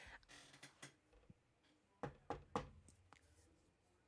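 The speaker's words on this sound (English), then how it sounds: "that was me knocking my head against the table" A head knocking against a table: three dull, close thuds in quick succession after a stretch of faint rustling, each one a short broadband knock.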